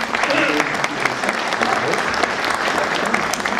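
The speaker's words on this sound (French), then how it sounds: "Vous pouvez l'applaudir" Steady audience applause at a congress medal presentation, a dense, even wash of clapping that holds throughout at close range.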